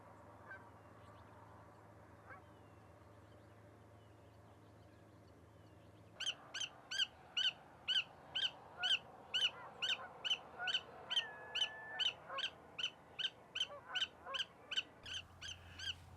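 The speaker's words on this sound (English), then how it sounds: "Unbelievable, this willet will not shut up." A willet calls over and over in a loud, rhythmic run of sharp repeated notes, close by in open habitat with low background noise. Before the calling begins there is a quieter stretch.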